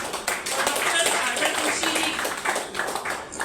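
An audience at a therapy event claps, a run of scattered hand claps heard under a speaking voice.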